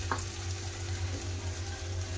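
Shaped potato pieces fry in hot oil with a continuous close sizzle and a faint low hum beneath, one small clink near the start and no talking.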